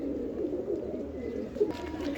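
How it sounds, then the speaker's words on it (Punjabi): A well-kept pigeon held in someone's hands gives soft, low, throaty coos that roll on continuously, close by, with a slight rustle near the end. "ਇਹ ਦੇਖੋ ਮੇਨਟੇਨਡ ਕਬੂਤਰ"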